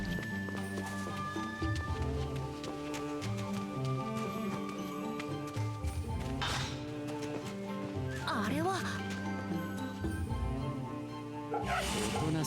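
A dog in the Fate/Samurai Remnant video game barks and whimpers amid a constant bed of game music, with short yelps and whines surfacing near the end, while a person talks over it.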